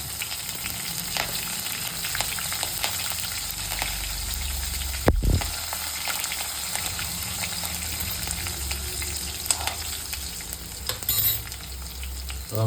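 Green chillies drop into hot oil already tempering with asafoetida and curry leaves for sev khamani, a steady close sizzle with a sharp burst of spluttering midway and light stirring clinks.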